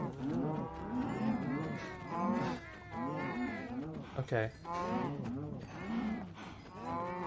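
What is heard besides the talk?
cows mooing on a farm in a video game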